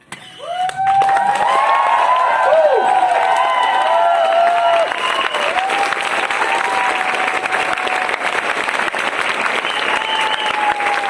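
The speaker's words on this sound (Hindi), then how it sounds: "मेरे भाई, ये ताली है सर के लिए।" A large crowd applauds a speaker at an IMC motivational talk, loud and sustained clapping for about ten seconds, with ringing tonal sounds layered over the first half and no talk.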